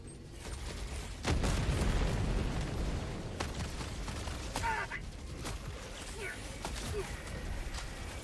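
A grenade goes off in the game Helldivers 2 with a sudden loud boom and rumbling aftermath, followed by scattered bursts, pops and mechanical clatter amid battle noise, with voices speaking over parts of it.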